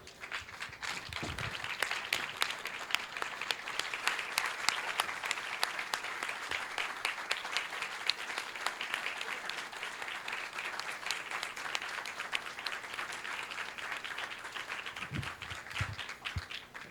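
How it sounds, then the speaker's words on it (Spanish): Sustained applause from a crowd, steady and dense clapping that continues for many seconds before tapering slightly near the end. "démonos un aplauso por esos líderes caídos que hoy ya no están"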